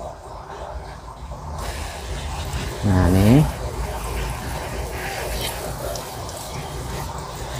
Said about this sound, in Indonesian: Nah ini kita langsung siram kocor seperti ini sebentar.